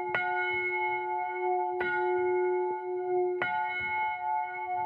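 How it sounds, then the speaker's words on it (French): A church bell in a French town strikes three times at an even pace, each bright clang ringing on and fading slowly into the next. "lorsqu'il y a une cloche qui sonne, je suis happé par ce son et aussi par ce mouvement"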